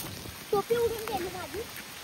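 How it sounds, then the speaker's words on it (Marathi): Heavy rain keeps falling outdoors during a crab hunt, a steady hiss running beneath a person who talks over it. "तर गायच भरपूर पाऊस येतोय आता चला"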